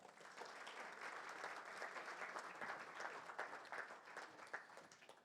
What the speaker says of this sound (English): Ladies and gentlemen, a warm round of applause for Millie Ball.